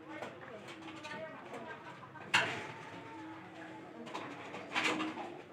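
Pigeons in a village loft cooing softly and steadily, with a couple of louder fluttering bursts and background voices talking nearby.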